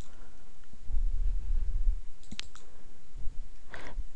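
A mouse click on a computer's Save icon, heard as a couple of brief, sharp clicks against a quiet background with faint low rumble.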